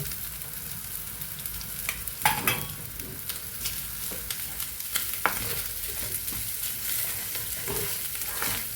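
Dried red chillies and fresh grated coconut fry for a tempering, giving off a steady, close hiss of sizzling oil with occasional light stirring clicks and scrapes, no voices.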